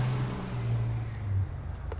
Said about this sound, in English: That was just a normal pickup truck going by.